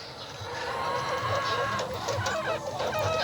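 Hens cluck steadily and close by in a backyard coop during egg collection, with a busy mix of overlapping clucks and rustling and no clear talking.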